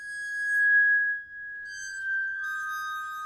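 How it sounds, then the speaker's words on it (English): Glockenspiel bars bowed with a cello bow: a sustained, pure, glassy tone that rings steadily throughout, with fainter higher shimmering overtones joining in, quiet and eerie with nothing else audible. "when you play it on the Glockenspiel"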